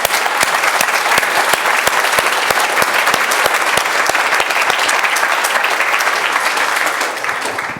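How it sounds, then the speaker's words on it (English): An audience applauds a panel after a discussion of binge watching and social entertainment, dense sustained clapping with distinct sharp claps throughout, loud and close, tapering slightly at the end. "Let's give them a round of applause."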